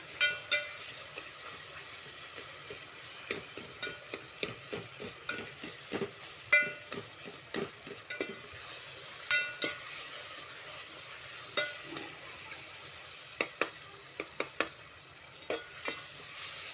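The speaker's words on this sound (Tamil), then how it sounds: "நல்லா மசிச்சு விட்டுக்கோங்க லைட்டாக" Softened tomatoes and vegetables being mashed in a sizzling pan for veg pulao: a near, steady series of roughly twenty sharp scraping strokes of a spoon against the pan over a low frying sizzle, with no speech.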